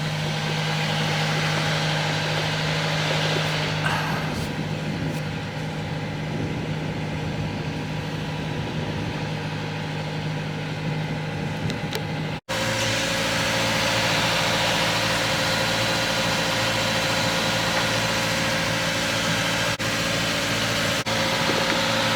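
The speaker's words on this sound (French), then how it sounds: "on va s'aider un peu du moteur pour pouvoir passer" A sailboat's auxiliary engine runs at sea in light wind, a continuous steady drone with a low hum that continues unbroken across a short cut, with no speech.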